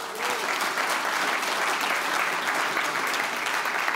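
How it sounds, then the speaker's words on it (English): Conference audience at the inaugural AI Engineer Summit applauding, a dense, steady burst of clapping from a large crowd that holds evenly for about four seconds, close and loud with no talk over it. "So give yourselves a round of applause."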